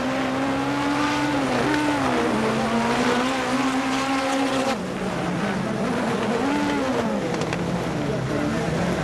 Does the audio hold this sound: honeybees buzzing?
no